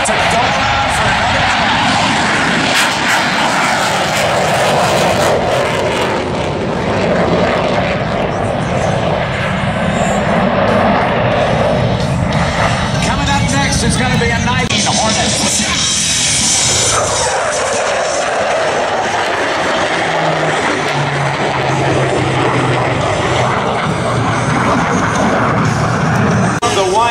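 A warbird aircraft roars loudly for the whole stretch as it lands and throttles up to go around, with engine power swelling and shifting, under a steady wash of wind.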